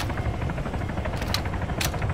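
Helicopter rotor noise in a military combat simulator video game, a steady loud broadband drone throughout with a couple of sharp bursts that may be gunfire, no speech.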